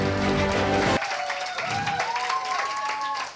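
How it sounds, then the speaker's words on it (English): Audience applause at a 2023 graduation ceremony rises after a low musical opening, with steady clapping and a faint tonal whine layered through it, fairly close and loud to the end. "So please give him a round of applause."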